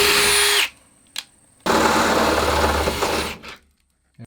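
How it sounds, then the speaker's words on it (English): A power drill with a bit bores a rivet hole in the framing of a Ram Promaster van, with a short burst, a brief blip, then a longer loud whirring run up close. "just with a full drill bit, and add my own hole into here at about the same level"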